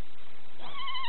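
A young child imitates a horse with a short, high, wavering whinny-like cry that lasts under a second and is heard alone.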